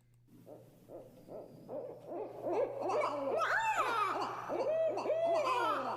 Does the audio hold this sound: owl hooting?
yes